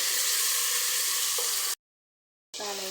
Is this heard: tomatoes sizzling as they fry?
yes